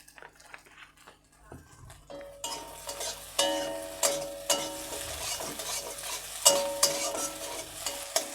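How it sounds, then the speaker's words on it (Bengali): Crumbled leftover roti is stir-fried in a little oil in a pan, with a soft sizzle under repeated sharp scrapes and clinks of the spatula against the pan, close and alone. "তো এটা গুঁড়ো গুঁড়ো করে ভেজে নিচ্ছি।"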